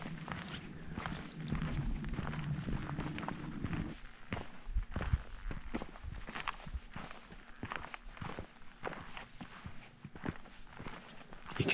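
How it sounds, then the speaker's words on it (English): Footsteps crunch down a dry hillside path through trees and plantation on Longridge Fell, a steady walking rhythm of close, crisp scuffs with a rougher patch of noise early on. "You can hear from the footsteps how dry it was at this time."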